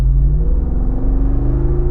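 A 2021 Jeep Wrangler Rubicon 392 V8 with performance exhaust rumbles loudly from inside the cabin, a deep, steady growl with rising engine tones as it revs.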